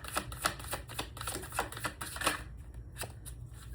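A deck of tarot cards being shuffled, repeated soft riffling and flicking bursts close by, fading to a few lighter card slaps near the end, no voice.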